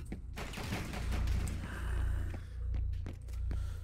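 Gunfire in the tactical shooter Rainbow Six Siege: a cluster of sharp gunshots in the first second, then scattered single cracks over a steady low hum, with no talking.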